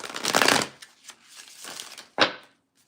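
Tarot cards riffle and shuffle in several quick, crisp bursts, close by, ending with a sharp final snap of the deck.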